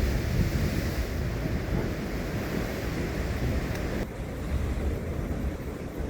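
Ocean surf roars continuously at the Pancake Rocks blowholes, a broad steady wash of breaking waves mixed with wind buffeting the microphone.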